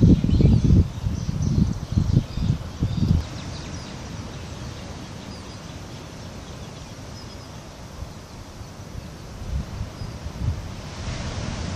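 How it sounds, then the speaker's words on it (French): Wind and ocean surf near a forest at Cambaie on Réunion Island: strong gusts buffet the microphone in the first few seconds, then settle into a steady, broad rushing wash of waves and wind, swelling again toward the end. "On se rapproche de l'océan et du vent."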